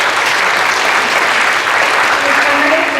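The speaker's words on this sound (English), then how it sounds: "So let's give them a big applause." Steady applause from a large audience at a bilingualism and linguistics conference opening ceremony, dense continuous clapping filling the hall for the whole stretch.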